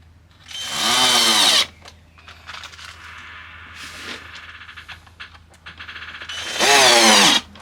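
A power tool drives screws into a wooden end table in two loud, sustained whining bursts near the start and end, with quieter clattering and handling noises between them, close by.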